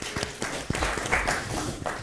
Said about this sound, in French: On applaudit très fort Aïcha.